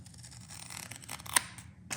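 Scissors make a quick, close snip through a tank monitor sensor strip for the gray tank of a truck camper, one sharp cut followed by a softer rustle in a quiet room.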